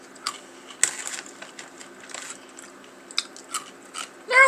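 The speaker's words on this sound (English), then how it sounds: "Kind of like candied peanuts. They're good. They have that really crunchy little coating." Close, crisp crunching and biting of candied peanuts with a hard sugary coating, a series of irregular crackly bites and chews over a quiet background, with a louder burst of crunching at the end.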